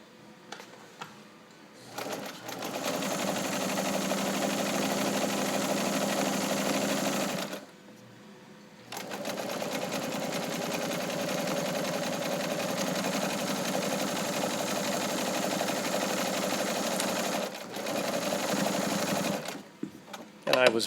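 A restored vintage Kenmore 158.1750 sewing machine stitches zigzag in long loud runs broken by brief pauses, a close rattling hum that stops and restarts several times.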